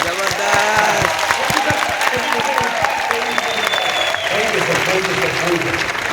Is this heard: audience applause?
yes